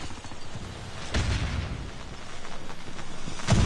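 An enemy grenade goes off in COD Mobile gunfight action, a heavy boom landing about a second in, with another sharp blast at the end over continuous rumbling combat noise.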